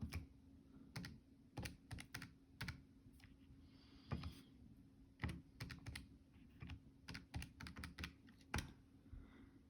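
Keys on a computer keyboard clack in short irregular bursts with pauses between them, close and quiet, while an algebra practice exam answer is entered.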